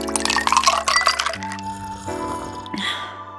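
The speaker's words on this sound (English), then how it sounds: "so I threw some ice cubes in" Ice cubes tumble into a glass of water with bright clinks and cracks, followed by the glass ringing and settling as the cubes knock and crackle.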